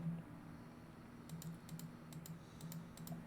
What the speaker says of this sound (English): you're just gonna hear me clicking a lot of times